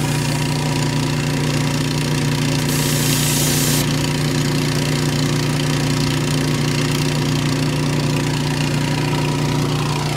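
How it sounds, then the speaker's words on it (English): Air compressor running steadily, a constant mechanical hum and rattle that stays level throughout with a brief hiss partway through, close and loud, without any talk. "when I have the air compressor running and going through that, that's gonna push some air into it"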